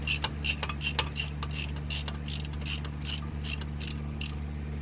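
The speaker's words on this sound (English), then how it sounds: "the bracket is already moving out of place as I'm loosening this bottom bracket bolt" A ratchet wrench loosens a rusted bottom brake caliper bracket bolt, giving about a dozen evenly spaced sharp clicking bursts close up over a steady low hum.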